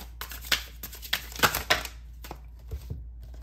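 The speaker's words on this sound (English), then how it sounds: "I'm going to pull out more cards and see what's going on in the past" Tarot cards pulled from a deck make a run of soft papery slides, flicks and crinkles, close and quiet, with several sharper snaps scattered through.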